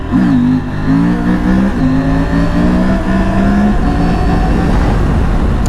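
A KTM 890 Adventure R motorcycle engine revs hard through second, third and fourth gear wheelies, its loud, steady drone rising in pitch with each gear before dropping at the shifts, close and continuous throughout.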